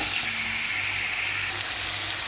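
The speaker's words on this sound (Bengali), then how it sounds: "মাংসটা একটু ভাজা করে নেব আগে।" Chicken meat fries in a pan with a steady, bright sizzle that stays loud and continuous from start to finish, with no voices.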